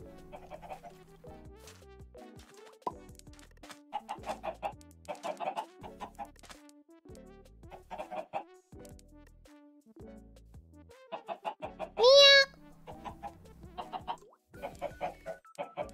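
Chickens cluck in a Minecraft game world, a few short clucks and one sharper squawk near the middle, mixed with soft game sounds and background music without any talk.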